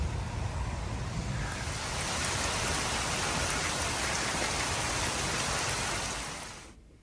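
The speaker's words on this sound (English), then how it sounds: "A lot of wind with them and heavy rain" Heavy thunderstorm rain pours down in a dense, steady hiss of drops striking surfaces, constant and loud throughout before cutting off abruptly at the end.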